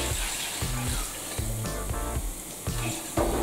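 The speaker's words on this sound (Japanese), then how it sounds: "でこちらの方には水を追加します" Water added to a pan of browned onions for chicken curry made with curry powder: a steady sizzle and bubbling with soft splashes, close and continuous.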